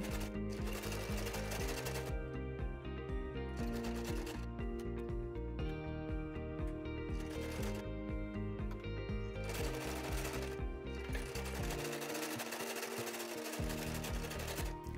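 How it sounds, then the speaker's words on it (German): A sewing machine stitches a seam on a dog jacket, a fast steady mechanical chatter running in several stretches with brief changes in pace, close and clear, with no talk. "Verriegle dabei den Nahtanfang und das Nahtende."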